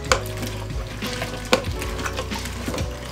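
A pot of soup mixture with garlic powder, onion powder and water being stirred, giving steady scraping and sloshing with a few sharp clinks of a utensil against the pot, close and moderately loud.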